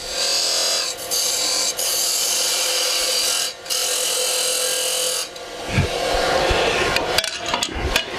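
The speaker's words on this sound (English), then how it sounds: "Then you take a parting tool and you cut down to the depth that you need for your cove." A parting tool cuts into spinning wood on a lathe to set the depth of a cove, giving a loud, continuous scraping rasp with a few brief breaks and rougher, uneven cutting near the end.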